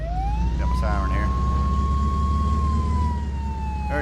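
A tow truck's electronic siren in the Flashing Lights game, one long rising and then slowly falling wail over a steady low engine drone, with brief warbling bursts near the start and end, loud and up front.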